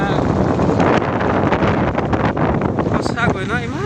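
Wind blows across an open tea estate, the Coramore Tea Estate, as a steady, loud rush that buffets the microphone throughout, with a voice briefly audible near the end.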